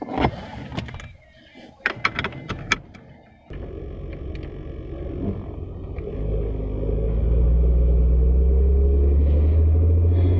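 Interior of a car while driving, with a steady low rumble that builds and grows louder over the second half after a few clunks and handling noises at the start.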